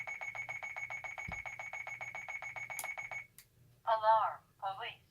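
A Honeywell 6272CSV touchscreen alarm keypad sounds its entry sequence as a fast, steady train of bright electronic beeps for about three seconds, then stops as a short spoken voice follows.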